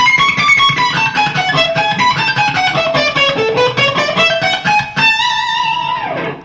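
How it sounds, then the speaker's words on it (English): Distorted electric guitar lick with sweep picking high on the neck, fast descending and rising notes with rhythmic picking, ending in a bend that fades out, played alone. "It's got a little sweep picking thing in it, and it's way, way up here on the top of the neck."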